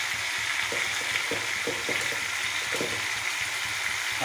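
Tomatoes with salt fry in a pan with a steady, close sizzle, while a spoon stirs them and makes soft scraping clicks at irregular moments. No one speaks.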